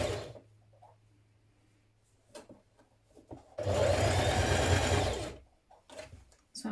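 A sewing machine stitching a 1.5 centimetre seam on a tunic top, running in one steady whirring burst of about a second and a half between quieter handling sounds and faint motor hum.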